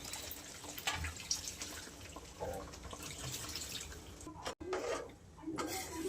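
Water runs steadily into a pan of fenugreek vegetable dish with a continuous splashing trickle, briefly cutting off near the end before resuming.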